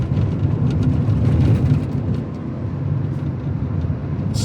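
A $200 Honda Civic idles with a steady, smooth low rumble, close and fairly loud, holding an even tone with no revving and no talking.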